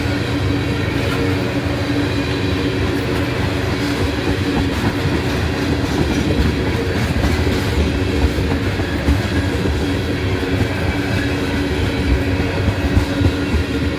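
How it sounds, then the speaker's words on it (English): An empty tanker train rolls past at close range with a loud, continuous rumble and a rhythmic clatter of wheels over rail joints in Abbeville. "This is a tanker train. It's empty."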